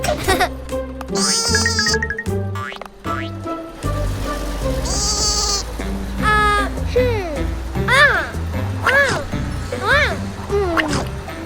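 Repeated sheep bleats ring out among bouncy toy-like sounds and a voice, the bleats rising and falling in a quick series toward the end.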